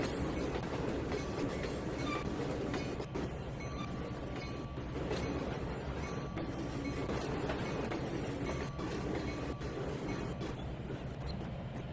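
Trainz 2019 game locomotive pushes a string of boxcars back, with steady rumbling rolling noise and rhythmic clickety-clack of wheels over rail joints, loud and continuous throughout.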